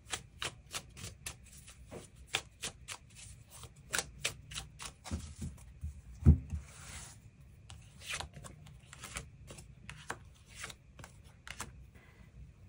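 Tarot cards being drawn and shuffled by hand, a quick run of crisp flicking riffles followed by softer slides and taps of cards, close and quiet with no talking.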